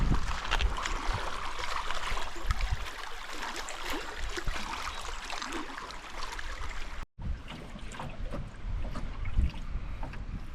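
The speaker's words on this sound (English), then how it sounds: "Canoeing in the 100-mile wilderness." Canoe on a breezy lake in the 100-mile wilderness along the Appalachian Trail, with steady wind and water wash around the hull and soft irregular paddle strokes and splashes, broken by a brief dropout partway through.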